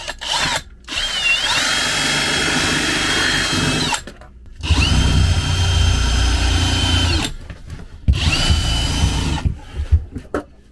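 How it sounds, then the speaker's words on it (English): Power drill boring a hole during RV repair work, three loud sustained bursts of whining motor noise separated by brief pauses. "All right, we're drilling a hole here."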